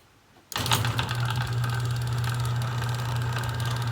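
A modified Chamberlain PD752D garage door opener with greased gears starts abruptly and runs steadily with a humming motor drone and a rattling mechanical whir, close and constant, with no talk.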